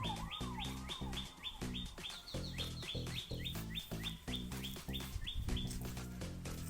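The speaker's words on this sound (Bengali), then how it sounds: "পাখিদের আওয়াজ" Birds chirp near a lotus pond with ducks, giving quick, repeated calls in a lively, uneven rhythm, faint and a little distant.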